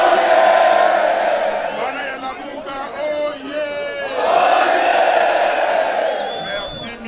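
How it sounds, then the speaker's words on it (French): A jubilant crowd greets opposition leader Martin Fayulu in Kinshasa, a dense roar of cheering, whoops and shouting voices that swells, dips, then surges again, with whistles cutting through near the end. "Accueilli par une foule en liesse, il s'est adressé à ses partisans au niveau de l'échangeur."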